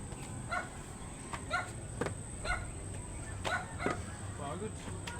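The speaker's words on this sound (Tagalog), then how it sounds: "May aso kasi." A dog barks repeatedly at a resort, sharp separate yaps recurring roughly every second over a low background murmur.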